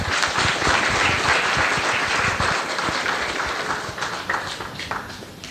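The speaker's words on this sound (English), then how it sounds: "Another round of applause for" Audience applause for a survivor at a national child protection town hall meeting, a crowd clapping loudly and continuously, then thinning gradually toward the end.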